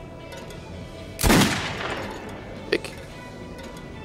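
A single loud gunshot at bottles in the shooter game Metro 2033 Redux with a ringing decay, then a small clink; a voice speaks briefly.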